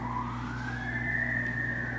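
A siren wails in the distance with a rising and falling tone over a low steady rumble. No voices are heard.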